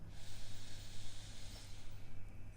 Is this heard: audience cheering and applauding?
no